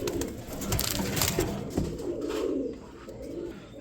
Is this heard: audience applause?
no